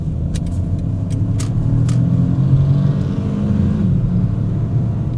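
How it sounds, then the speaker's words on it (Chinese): A 2025 BMW 218 Gran Coupe with a three-cylinder engine pulls away, giving a steady, loud low rumble throughout with a few brief higher clicks or ticks early on, and no talking. "所以3气缸引擎 它就是天生不平衡"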